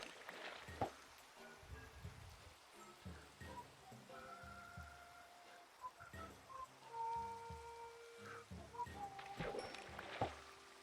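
Steady rain falls at night in the video game Minecraft, a soft continuous patter on surfaces and water, fairly quiet, with faint game sounds and tones scattered through it.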